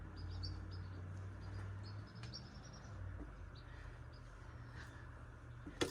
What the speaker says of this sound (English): you hear these birds just playing up in the tree